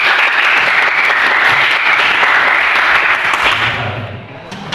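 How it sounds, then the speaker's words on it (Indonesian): Students in a classroom break into loud, sustained applause, a dense wash of clapping that holds steady and then begins to taper off at the end. "Luar biasa, tepuk tangan dulu"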